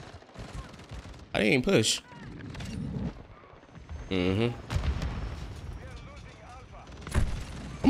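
Call of Duty: Modern Warfare II gunfire comes in a few sharp bursts of shots and booms scattered between stretches of game noise, with a player talking over it.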